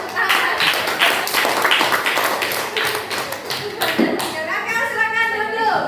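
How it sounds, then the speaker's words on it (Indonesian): Students clap their hands in a junior high school classroom, a quick, uneven burst of claps close to the microphone that fades into scattered taps, with voices mixed in. "Iya, tepuk tangan."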